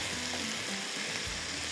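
Shrimp fry with onions in hot oil, giving a soft, steady sizzle with light crackle that runs throughout at a low, close level without any talk.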